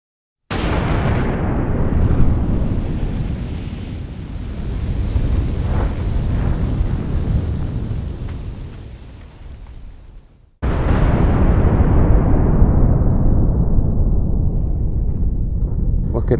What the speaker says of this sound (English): The explosion isn't perfectly instant across the whole material. It's a spreading shockwave of detonation.